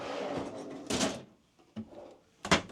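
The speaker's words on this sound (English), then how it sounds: "the drawers over here, full extension" A full-extension kitchen drawer in a 2008 Country Coach Magna motorhome slides and knocks shut in a few short close thumps and rattles, with quiet gaps between them.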